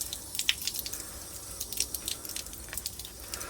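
Tap water runs through a sieve to rinse tomato seeds, giving close, continuous trickling with light dripping and splashing throughout.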